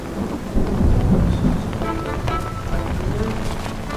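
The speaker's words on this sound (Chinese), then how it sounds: "怎么下雨了？" Heavy rain pours steadily onto surfaces while low thunder rumbles through the storm, loud and continuous with no break.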